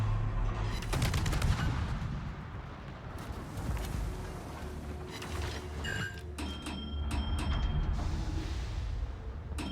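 Naval gunfire from the French destroyer Mogador in a warship combat video game: repeated booming and rattling shots with mechanical clanks, fairly close and continuous over a rumbling background.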